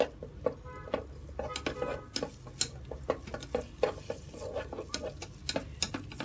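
Shallots fry in cooking oil in an electric rice cooker pot, giving a steady close sizzle broken by frequent clinks and scrapes of a utensil stirring against the pot.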